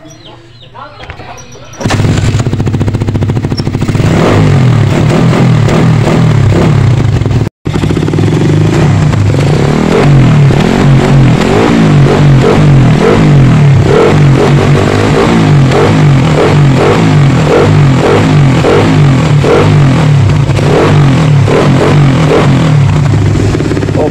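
Motorcycle engine revving hard through a modified kalkal power pipe exhaust, loud and continuous with a steady low rumble and rhythmic throttle pulses, one brief cutout partway through.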